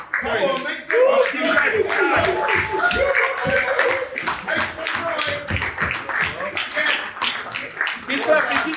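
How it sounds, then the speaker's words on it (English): A crowd at a graduation ceremony for 8 to 12 year olds claps steadily throughout, dense and continuous, with voices and cheering mixed into the applause. "Keep clapping."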